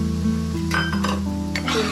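Semolina and dry fruits roasting over low heat in a cooking pan, with steady clinks and scrapes of a stirring spoon against metal over a soft, continuous sizzle.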